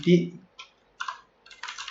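A few scattered keystrokes on a computer keyboard while a terminal command is entered, with a short burst of voice-like sound at the start; quiet, close and irregular.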